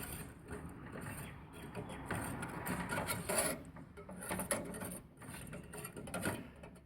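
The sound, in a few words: stirring homemade leather polish mixture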